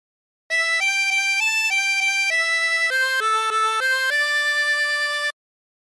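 A harmonica plays a phrase of the folk tune Colorado Trail: a clear, reedy melody of about a dozen blown and drawn notes at an even pace, close and alone, with no talk.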